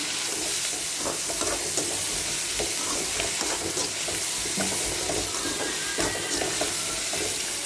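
Onions with salt frying in a pan give a constant crackling sizzle, broken by scraping stir strokes from a spatula, heard up close and without speech.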